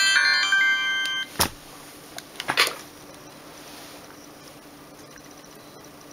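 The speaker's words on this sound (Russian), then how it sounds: "Опа, вот видите, телефон отрубается иногда сам." A Samsung X100 mobile phone plays a short electronic shutdown melody as it switches off, a clear run of bright tones lasting about a second, then a few faint clicks and handling noises in a quiet room.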